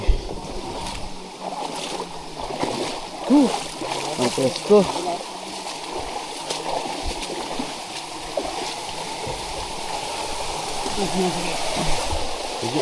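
Rushing flow of a mountain stream or waterfall, a large volume of water on a high mountainside, a steady broadband wash throughout, with people talking over it.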